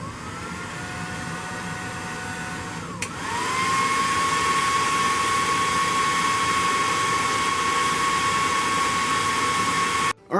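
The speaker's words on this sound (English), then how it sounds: "I have the tail, have the hair dryer, so my plan is just to have it as close as I can." Hair dryer blowing close at the tail of a 12-inch NECA Godzilla figure, a steady whooshing hum; it shifts to a higher, louder setting after a few seconds, then cuts off abruptly at the end.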